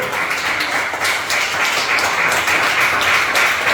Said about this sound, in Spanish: denle un fuerte aplauso a Jesucristo